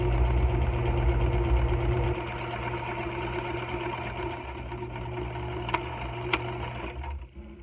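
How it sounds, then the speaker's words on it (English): Sewing machine stitching with twin needles, a steady loud mechanical whir that runs continuously, drops slightly in level after two seconds, then winds down near the end with a couple of small clicks. "when you're sewing with twin needles, you're sewing the top"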